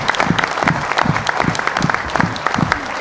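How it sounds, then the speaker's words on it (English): An audience at a town meeting applauds its speakers, a dense, steady clatter of many hands clapping that carries on throughout without a break. "give a good round of applause for all of our speakers"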